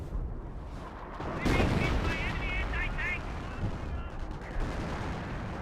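Explosions and gunfire from the World War II strategy game Company of Heroes, with a landmine going off: deep booms and crackling shots under a continuous rumble, bursts layered close together.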